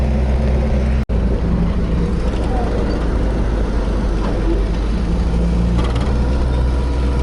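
A pickup truck engine idles high with a steady, close, droning hum and no change in pitch. A single brief dropout breaks the sound early on.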